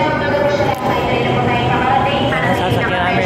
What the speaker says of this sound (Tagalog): Ayan, may parating na train.